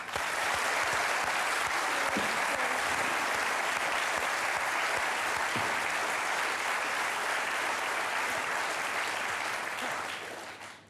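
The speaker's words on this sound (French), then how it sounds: "Je voudrais que nous fassions, s'il vous plaît, une salve d'applaudissements Pour le grand vénard" A studio audience on a French television talk show gives a dense, sustained round of applause, loud and even throughout before tapering off at the end.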